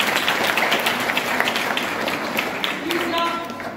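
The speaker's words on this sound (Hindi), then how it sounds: "इनके लिए भी एक बार जोरदार तालियां।" An audience at a theatre play promotion event gives a burst of applause, with dense, steady clapping from a crowd mixed with some voices.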